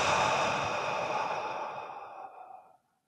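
A long, slow exhale through the mouth during a guided breathing exercise, close and steady, gradually fading out into silence.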